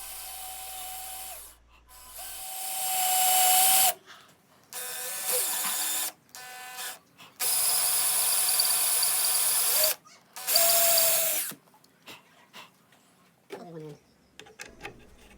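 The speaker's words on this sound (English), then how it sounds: "here I'm just installing the threaded inserts to the bottom of the leg so the bolts could go into it" Threaded inserts being driven into the bottom of wooden fruit stand legs with a power tool, in several loud whirring bursts separated by short pauses, ending with quieter ratcheting clicks.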